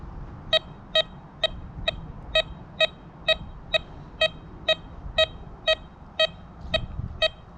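A Troy Shadow X2 metal detector sounds its signal over iron as a steady run of about sixteen short, clipped electronic beeps at a regular pulse over a low background rumble.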